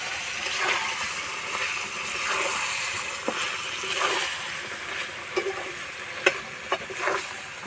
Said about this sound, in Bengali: এইভাবে আমি পাঁচ থেকে সাত মিনিট মতো কষিয়ে নেব